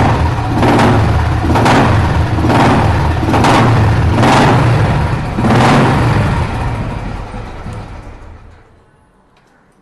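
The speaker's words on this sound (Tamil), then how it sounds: "இன்ஜினும் சூப்பராக இருக்கு." A restored vehicle's engine runs close and loud, pulsing in steady surges about once a second before dying away into quiet near the end.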